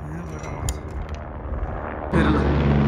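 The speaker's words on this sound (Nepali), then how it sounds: "आयो हेलिकप्टर आयो ल" A helicopter flies overhead on the high-altitude Gosaikunda trek in Nepal's mountains, a steady broad rumble that swells suddenly louder partway through as it passes close.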